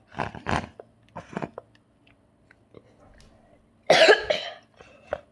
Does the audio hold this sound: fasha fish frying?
no